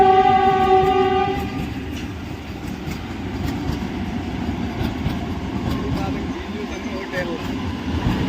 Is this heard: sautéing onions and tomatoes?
no